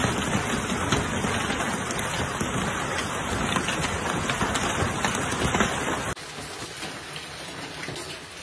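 Torrential rain pouring during a violent hailstorm in Rome, a dense, loud, steady roar of water hitting streets and surfaces, unbroken throughout, with a sudden slight drop in level near the end.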